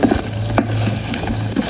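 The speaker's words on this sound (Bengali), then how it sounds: "সবগুলো ভেজে নিচ্ছি একে একে" Cauliflower chops frying in a little oil inside a mini rice cooker, a steady close sizzle with small crackles and light stirring throughout, no voices.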